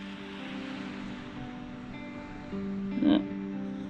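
Waves wash onto the beach at Rapid Bay in a steady soft surf hiss, with a faint tonal hum running underneath and a slightly louder swell toward the end.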